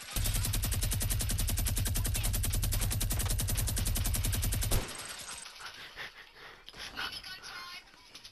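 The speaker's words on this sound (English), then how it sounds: "Mini gun time." A minigun in the video game Fortnite fires in one loud, unbroken, rapid-fire burst for about five seconds, then cuts off, leaving quieter game sounds and possible voices.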